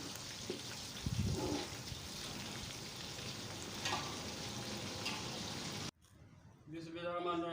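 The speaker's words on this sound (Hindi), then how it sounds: "ये देखें इस तरह तलना है।" Chicken for pulao frying in oil, a dense steady sizzle with a few louder bursts, then a sudden drop to quiet before the hiss returns; a voice is faintly present under it.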